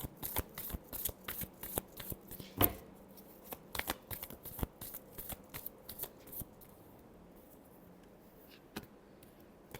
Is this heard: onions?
no